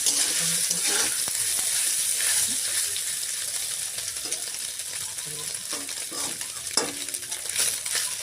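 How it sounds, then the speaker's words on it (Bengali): Soybean chunks fry in a pan with a loud, continuous sizzle while they are stirred, with occasional soft scrapes and clinks from the utensil. "এই সব সয়াবিনগুলো দিয়ে দিলাম দিয়ে একবার নাড়িয়ে দেবো এরকম"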